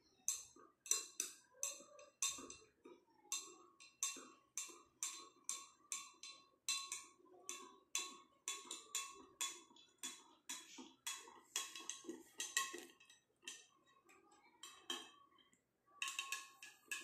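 A metal spoon stirring salt water in a glass ticks and clinks against the sides in a steady, rapid rhythm, close and fairly quiet, with no voices.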